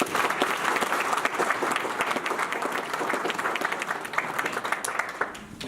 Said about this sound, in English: So if we could just kind of give an applause to the mayor for all this work